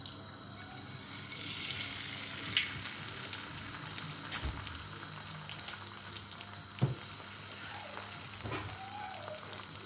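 An egg fries in a Tefal Cook Healthy pan on the highest heat, a soft steady sizzle and crackle close by, quiet overall, with a couple of brief knocks from the pan or utensil.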